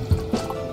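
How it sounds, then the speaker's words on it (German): Drops of Sprite fall onto homemade slime mixed with vinegar, a few distinct wet drips and squishy plops spaced apart, close and fairly clear with no speech. "Gießen wir 2 Tropfen Sprite."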